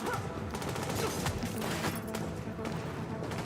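Video game gunfire rattles in a dense, continuous wash of rapid shots and impacts, held at a moderate, fairly distant level without clear pauses.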